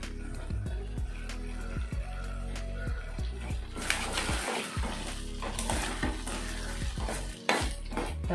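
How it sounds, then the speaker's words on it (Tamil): Chilli pickle ingredients with salt, palm sugar and asafoetida fry in a pan, a steady close sizzle broken by repeated sharp scrapes and clinks of a spoon stirring against the metal, roughly once a second. "நல்லா வதங்கணும், பச்சை வாசம் சுத்தமாக இருக்கக்கூடாது."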